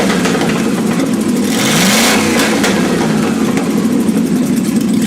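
A small-displacement Dodge V8 revs hard, its loud, steady roar rising and easing over a few seconds and staying close throughout.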